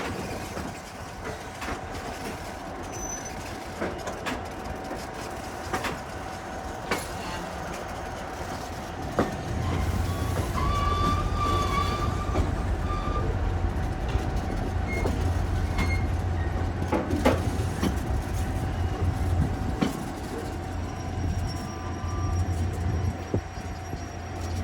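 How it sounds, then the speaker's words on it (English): EMD diesel locomotives hauling a special train across the Connecticut River bridge near Rockingham, Vermont, a steady rumbling engine drone with rhythmic wheel clatter that grows louder and heavier midway, fairly close. "Our EMD locomotives are about to cross the Connecticut."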